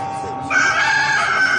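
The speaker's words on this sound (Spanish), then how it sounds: "En ese momento el gallo cantó por segunda vez y Pedro se acordó" A rooster crows once, a loud drawn-out call that bursts in abruptly and holds strong to the end over a faint background.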